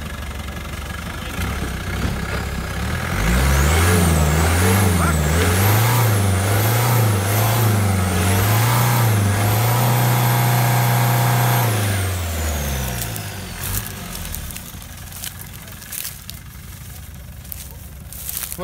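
Land Rover Discovery 300Tdi stuck in soft mud, its engine revving hard in rising and falling surges as the wheels spin for about ten seconds, then dropping away; people talk nearby.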